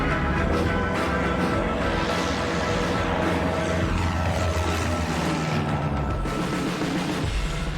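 A loud, steady airliner engine roar runs throughout on a runway in Malaysia, with a low droning hum and a rising pitch sweep as the plane builds speed nearby.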